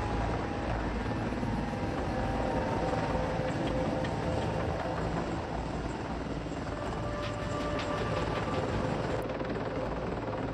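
A Mil Mi-28 Havoc tandem two-seat anti-armor attack helicopter roars continuously with dense rotor and turbine noise, loud and steady throughout, without any voices.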